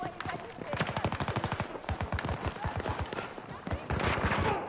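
Rapid automatic gunfire from a rifle in Battlefield 2042, a steady stream of close shots running throughout with a voice talking over parts of it.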